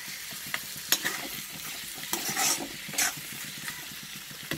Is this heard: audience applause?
no